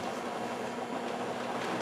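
A Lionel model train runs on its track with its speed set by a transformer, giving a steady, close mechanical whir and rattle of wheels on rails that stays loud and even throughout, with no talking.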